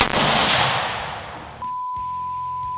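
Single loud gunshot outdoors at a shooting range, a sharp blast with a long decaying roar, followed by a steady tone and low hum.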